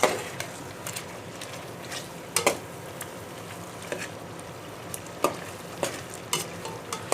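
Green chili paste and masala frying in a pan for chicken curry, a steady close sizzle with sharp scraping and stirring knocks from a spatula at irregular intervals, no talk.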